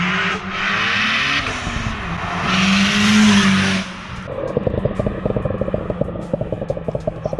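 A loud tuned 550-horsepower Skoda Octavia Stage 3+ engine roars and revs hard, rising in pitch, then drops to a rough, rumbling idle nearby.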